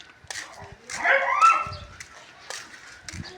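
Small dogs yip and whimper in short bursts, close by, while a person makes soft sounds between them.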